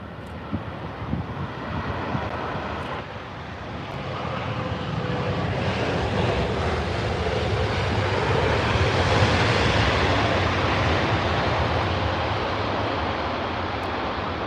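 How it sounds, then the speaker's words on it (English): Japan Airlines Boeing 787 with GEnx engines landing at Heathrow, a broad jet roar that swells from moderate to loud midway and stays heavy as it passes, no talk. "Gen X power on the Japan Airlines 78."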